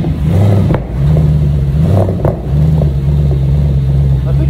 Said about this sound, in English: I think sounds cool with the pops.